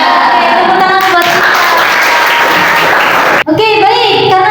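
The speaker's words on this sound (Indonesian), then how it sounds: "tepuk tangan buat" Students in a classroom burst into applause, a dense, loud clatter of many hands. After a brief gap near the end, voices and noisy chatter resume.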